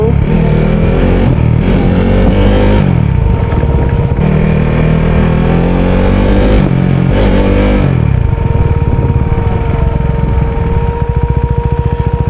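A KTM RC motorcycle engine revs loud and close while riding, its pitch climbing and falling through several throttle swells and gear changes, then holding a steady drone.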